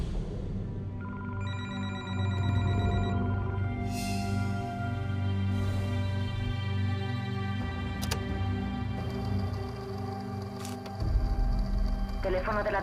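A telephone rings with a repeated electronic trill in a quiet interior, loud and close, its bursts giving way to a long held tone before the line is answered.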